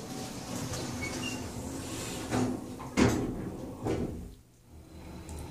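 An Otis Series 1 hydraulic elevator door in a brass-trimmed car closes with a rumbling slide and a few soft thuds over a few seconds, with no talking.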